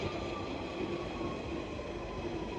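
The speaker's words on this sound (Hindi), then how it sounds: "अपनी ट्रेन भी आ गई" A train pulling into a UK railway station, a steady rumbling hum of carriages and wheels with a faint high squeal over it, moderately loud and continuous, no voices.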